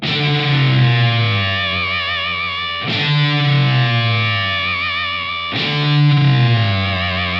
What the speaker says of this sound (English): that kind of synthesized low tone that drops as the disparity between the two notes I'm playing increases